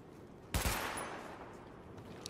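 Gunfire from weapons during a cover-and-shoot weapon test in the video game Tom Clancy's The Division: one sharp loud burst, then a long decaying rumble that fades under steady background noise.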